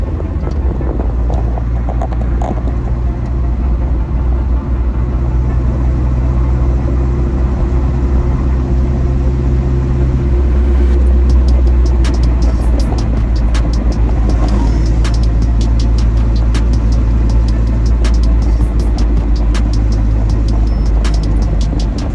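A 1980 Chevy LUV pickup drives at about 40 mph, its engine droning loud and steady throughout with heavy low rumble, road roar and occasional rattles and ticks from the cab.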